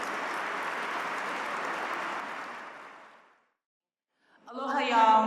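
A banquet audience applauds at an Asian American business award dinner as a speaker walks to the podium, dense clapping that fades away into silence before a voice begins speaking.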